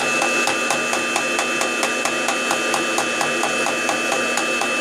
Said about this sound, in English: Sometimes if I want to help the chaff along, I take my little wooden spatula and I gently tap